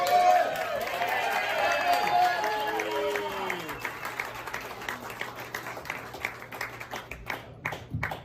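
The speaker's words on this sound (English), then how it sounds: "if we can give a big cheer for her" An audience applauds and cheers loudly for a performer, with whoops and voices over the clapping at first, then a steady patter of hands carrying on alone.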